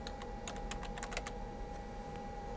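Quick, faint keystrokes on a computer keyboard while a file name is typed at an atomic force microscope workstation, a short burst of clicks over a steady electronic hum.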